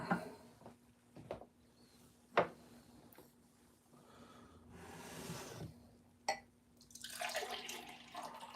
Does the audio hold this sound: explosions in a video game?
no